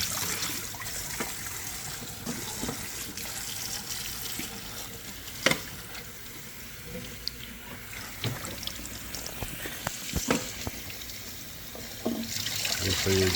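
Running tap water rinses heads of salted cabbage being prepared for sauerkraut, a steady splashing stream with occasional knocks and handling sounds, while people talk over it.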